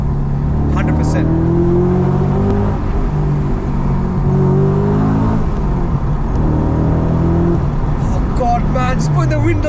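Audi RS4 B7 V8 engine revving while driving, a steady low engine drone rising and falling in pitch as it pulls, heard from inside the car.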